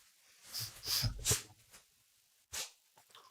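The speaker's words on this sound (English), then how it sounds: "Can you not sneeze in my face?" A person sneezes at close range, with a couple of quick sharp bursts followed by another single sneeze, with breathy snorts and sniffs between them and no talking.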